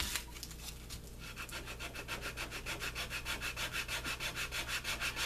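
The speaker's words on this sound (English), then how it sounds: "sometimes keep sandpaper handy because you never know." Sandpaper rubbed back and forth along the edge of a belt slide, a steady rhythmic scratchy rasp that settles into regular strokes after a brief irregular start, close and alone.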